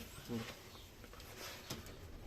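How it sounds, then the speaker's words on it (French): Pet pigeons kept by a bird-club member give a few soft coos close by, short low murmurs over quiet background, with faint rustling between calls. "Donc c'est des pigeons qu'on a récupérés, enfin qu'on nous a offert plutôt."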